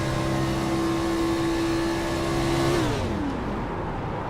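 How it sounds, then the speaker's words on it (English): An IROC race car at Kentucky holds a steady engine drone, then drops in pitch as the driver lifts off the throttle, falling to a lower coasting whir as it idles into the corner. "Let's listen to him lift out of the gas, push in the clutch, and let the car just coast and idle into the corner."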